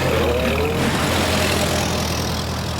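A car engine runs with a steady, rough drone and no clear rise in pitch, close and continuous throughout.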